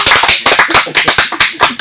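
An audience in a radio studio clapping for a guest singer, loud and close, a brisk run of sharp individual hand claps with a slightly uneven rhythm and no talk over it.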